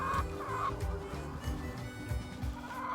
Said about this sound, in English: these chickens are already curious back here